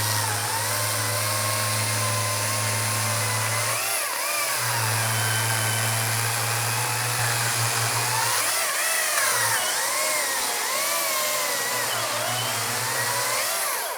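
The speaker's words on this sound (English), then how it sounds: "That saw has more heat into it now, so I think this is gonna be a better test." An Echo 2511T battery chainsaw runs during a cutting test, its loud whining motor holding steady with brief dips and pitch swoops as the chain bites into wood, without any talk.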